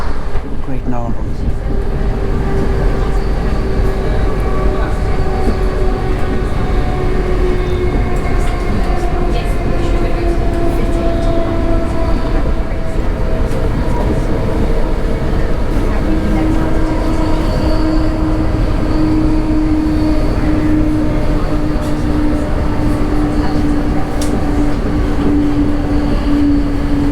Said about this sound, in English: Loads of trains.